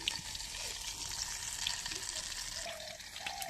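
Fish fries in a pan with a constant faint sizzle and crackle, occasional stirring scrapes breaking through near the end; the sound is quiet and continuous, with no talking.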